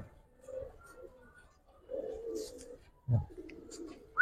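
Giribaz pigeons give a few soft, faint coos in short separated bursts at a market, with a quiet, sparse background.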